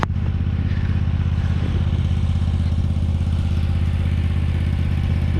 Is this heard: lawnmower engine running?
yes